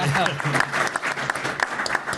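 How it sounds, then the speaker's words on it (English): Light applause from a small crowd at an Argonauts football press conference, scattered clapping mixed with murmuring voices. "Little applause. There it is."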